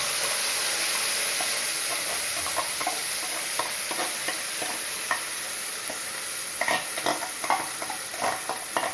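Mustard seeds spluttering in hot oil on a low flame for tomato chutney, a steady close hiss broken by scattered sharp pops and crackles that cluster toward the end, no voices.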